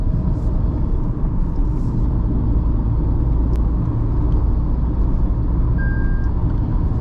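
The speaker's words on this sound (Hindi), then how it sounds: "अभी सॉफ्टली एक्सेलरेशन में कर रहा हूँ, आराम से कार चला रहा हूँ" Tata Punch car cruising under soft, gentle acceleration, giving a steady, close engine and road rumble that holds even throughout with no speech.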